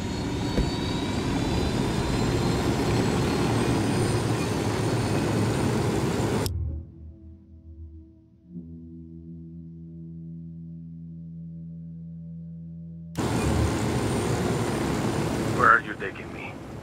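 Steady roar of an aircraft engine in Ghost Recon Wildlands, loud and continuous, dropping out for several seconds to a low tonal hum before the engine drone returns.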